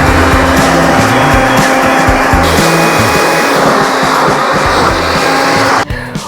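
An air blower blasts loose debris off a child's car booster seat inside a truck, a loud, steady, close whooshing roar with a whining motor tone that runs nearly throughout before cutting off abruptly near the end.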